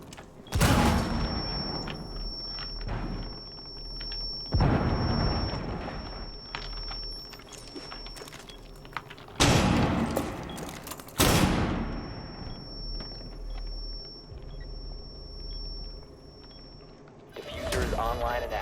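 Gunfire in a shooting video game rings out in several loud bursts of shots and booming blasts, separated by quieter gaps with a thin steady tone underneath.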